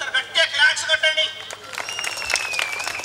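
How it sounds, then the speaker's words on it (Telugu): Audience at a school annual day puppet show claps and applauds for the children, a burst of hand claps in the first half that fades into crowd murmur and chatter. "వీళ్ళందరికీ ఒకసారి గట్టిగా క్లాప్స్ కొట్టండి"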